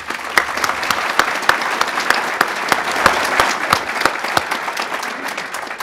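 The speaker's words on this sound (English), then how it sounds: "Let's have a round of applause." A lecture audience in Grand Rapids applauds: a sustained round of clapping with sharp individual claps standing out, close and fairly loud.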